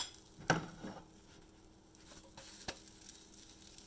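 A banana pancake flipped in a frying pan gives a brief sizzle and a soft splat near the start, then a faint, steady frying hiss for the rest of the short moment.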